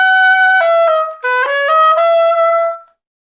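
An oboe plays an etude measure as one continuous legato phrase with no breath, the notes stepping up and down clearly and close, solo and unaccompanied, ending in silence.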